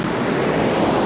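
Ocean surf roars in a dense, continuous wash of breaking waves, loud and near, with wind buffeting mixed through the rushing water.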